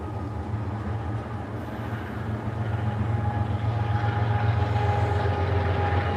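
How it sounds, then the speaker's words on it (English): A freight train with two engines passes, a continuous loud low diesel drone and rumble with a faint whine, growing slightly louder through the clip. "Got us a train, 1, 2 engines."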